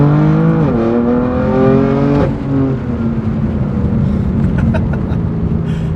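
A BMW M4 GTS with an S55 engine revving hard, its exhaust rasping loudly at high RPM, with rising pitch sweeps and a shift before settling into a steady droning pull close by.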